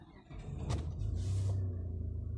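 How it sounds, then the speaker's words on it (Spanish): A 4x4 vehicle's engine cranks briefly and catches, settling into a steady low idle hum, close and clear with no talking. "Voy a encender el vehículo."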